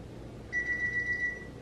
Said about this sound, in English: Does anybody else's microwave beep 20 million times after the food is done?